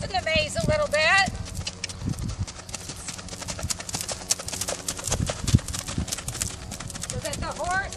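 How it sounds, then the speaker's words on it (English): Horse hooves clip-clop steadily as the animal circles a maze 5 to 10 feet out, a continuous rhythmic stepping with a brief whinny-like sound near the start and end, with talk over it. "So that the horse is making a circle about 5 to 10 feet away from the maze."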